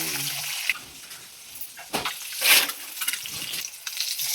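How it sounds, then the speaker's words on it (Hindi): Running water splashes from a kitchen tap while dishes are washed, a steady hiss with a few louder gushes and clatters close by. "थोड़ा बहुत बर्तन भी धो रही है"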